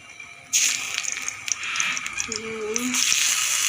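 Vegetables coated in turmeric and flour drop into hot oil for deep frying, bursting into a sudden loud, steady sizzle and crackle that continues close up, with a faint voice underneath.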